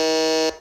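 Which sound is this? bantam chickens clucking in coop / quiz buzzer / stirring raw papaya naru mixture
quiz buzzer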